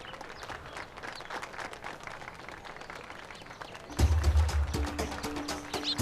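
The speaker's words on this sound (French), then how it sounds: "Veuillez les applaudir." A crowd at a kite-flying contest claps, faint at first and then swelling into louder, denser applause with some scattered noise mixed in.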